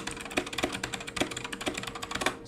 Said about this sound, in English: Sorry for my super clacky keys